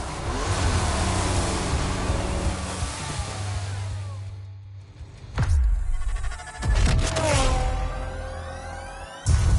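Porsche 911 engine in the racing game The Crew Motorfest, a loud car engine humming and revving with rising and falling pitch, interrupted by sharp shifts and surges.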